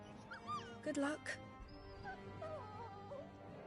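A puppy in the video game Final Fantasy XVI gives a few high, wavering whimpers and yips, faint and brief, surrounded by quiet game sounds.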